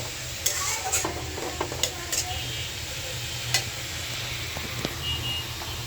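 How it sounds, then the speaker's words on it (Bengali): Spinach and a little eggplant sizzle steadily in a pan while a utensil stirs, scraping and clinking at irregular intervals over the constant hiss of frying. "পালং শাক রান্না করবো বেগুন দিয়া, অল্প বেগুন দিতেছি"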